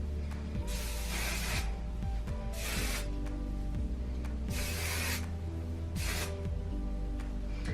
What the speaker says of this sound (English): So this is like just a maximum hold volumizing hairspray.